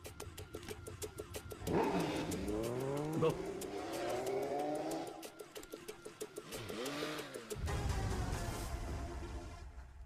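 A car engine revs and accelerates away in an action movie scene, with tires squealing and the motor rising in pitch through several surges, loud and close, while someone briefly speaks.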